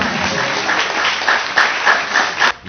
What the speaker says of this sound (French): Et quand on est fier, on fait quoi? On applaudit.